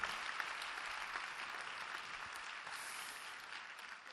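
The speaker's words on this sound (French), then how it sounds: "On peut vous applaudir du coup pour votre carrière" Audience applause fills a gala hall during a career tribute at an award evening, a steady dense clapping that stays loud and even throughout with no pause.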